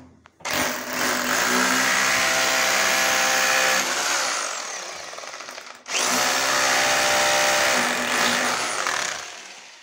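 A power drill with a quarter-inch masonry bit bores into a bathroom wall in two sustained loud bursts, a whining motor grinding steadily for several seconds each, separated by a brief pause, with no talk.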